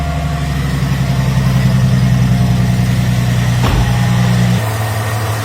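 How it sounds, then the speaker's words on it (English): A manual-transmission car, started from an Acmount P100 lithium jump starter pack, idles with a steady low engine drone and harmonic hum, then drops to a quieter, lower idle near the end, with no voices. "So as you can see, I got the car started from this little jumper pack"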